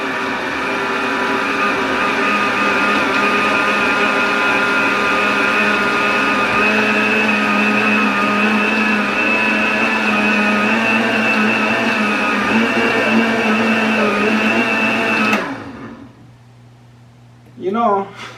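A kitchen blender whirs steadily through banana bread batter, a loud, even motor drone with a buzzing hum that runs about fifteen seconds, then cuts off abruptly and leaves near silence with a brief final clunk.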